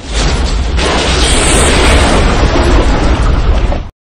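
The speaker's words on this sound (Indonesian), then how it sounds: "Seketika itu ledakan rudal itu menghancurkan kepala Titans kolosal, dan ledakan kedua pun menghancurkan tembok itu." A huge missile explosion from the Attack on Titan film: a very loud, sustained roaring blast that fills the whole clip and then cuts off abruptly.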